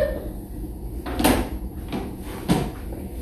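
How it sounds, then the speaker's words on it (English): A classroom chair being pushed in at a table, giving two short scraping knocks about a second apart, fairly close, with no talking over them. "Let's tuck our chair."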